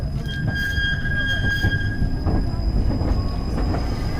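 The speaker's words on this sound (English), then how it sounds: "Beautiful tram." A tram rolls past steadily near the Izmailovo Kremlin in Moscow, wheels squealing in thin high tones over a low rumbling clatter on the rails.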